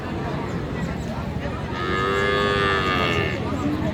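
A cow lows loudly and close by at a busy cattle market in Dinajpur, a long drawn-out moo rising over a constant murmur of crowd chatter and bustle.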